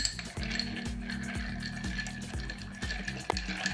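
Ice cubes clinking against a mixing glass as a Rusty Nail cocktail made with Drambuie is stirred, a steady run of close, light knocks and rattles repeating rhythmically with a few sharper clinks.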